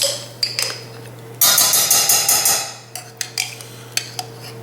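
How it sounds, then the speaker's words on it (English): Raspberry jam spooned into a small saucepan: a dense run of metallic clinks and scrapes from spoon on pan, clear and close, with fainter scattered taps on either side. "Get your little saucepan. Get that jam in there."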